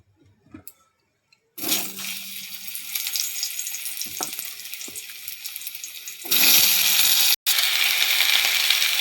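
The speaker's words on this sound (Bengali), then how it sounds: "ডাঁটা, আলু, কচু দিয়ে দেব তেলের মধ্যে, ওই তেলের মধ্যেই দিয়ে দেব" Drumstick stalks, potato and taro hit hot oil after a quiet start, bursting into a loud, close sizzle that holds, then surges louder as more goes in.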